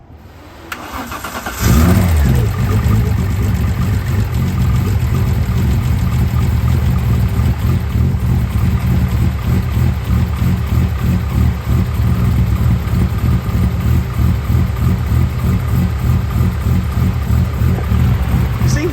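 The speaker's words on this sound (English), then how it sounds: "I've just put the old turbo back on, so I wanted to start it up, make sure it runs." A car running on the stock ECU with an old turbo refitted cranks and fires at once, then settles into a loud, close, rough idle with a steady pulsing beat that carries on without talk.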